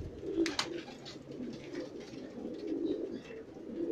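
Pigeons on a rooftop give soft, repeated throaty coos close by, with a couple of brief sharper sounds early on and faint background noise.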